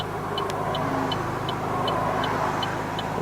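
Road traffic heard from inside a moving car on a smoky, hazy commute: a steady engine and road rumble with a regular ticking turn signal, and no distinct pass-by standing out.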